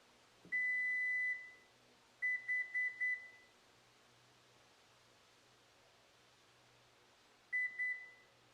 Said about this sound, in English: It should beep, supposedly.